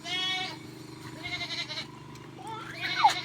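A goat bleats in wavering, drawn-out cries, close by, with a second bleat rising near the end over faint background noise.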